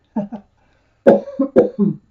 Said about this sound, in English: The famous little cough during the reading